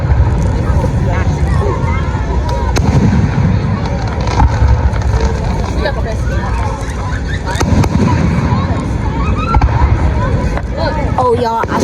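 Fourth of July fireworks exploding at night: a continuous loud rumble of bursts and crackles, with people chattering and a crowd murmuring nearby.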